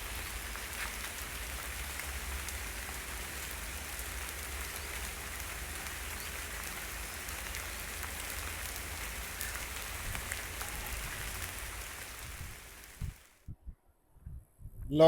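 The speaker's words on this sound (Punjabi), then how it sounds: "ਮੀਂਹ ਹਜੇ ਉਵੇਂ ਹੀ ਲੱਗਾ ਹੋਇਆ ਜੀ" Steady rain drums on surfaces outside along a road in Punjab, a dense, even hiss that holds for most of the stretch and then cuts off abruptly near the end, leaving a few soft thumps.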